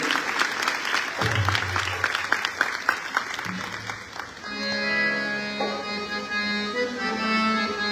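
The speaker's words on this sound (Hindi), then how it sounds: "जोरदार तालियां आप लोग बजा दें" An audience at a school nautanki performance applauds loudly for several seconds, a dense roar of clapping that gives way to singing with instrumental music.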